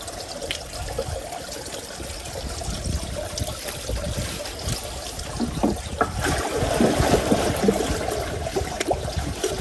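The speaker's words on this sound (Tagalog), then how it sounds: "Kanina po yung tubig dito ay lumalabas. Ay ngayon po yung pumapasok na po." Water trickles and pours steadily into a crab pond or channel once a wooden plank is pulled from the gate, a continuous close splashing flow that swells slightly toward the end.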